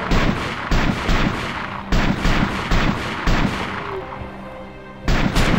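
Video game gunfire, loud and close, in repeated bursts of rapid shots that stop briefly and then start again, over a steady background roar.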